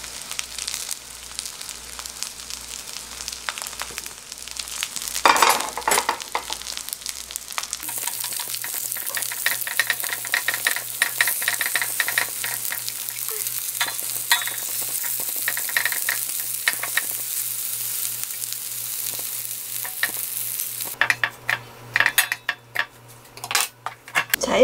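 Korean zucchini pancakes (green pumpkin jeon) frying in a pan, a continuous loud sizzle with clinks of a utensil against the pan and a rhythmic low thumping early on, no talking.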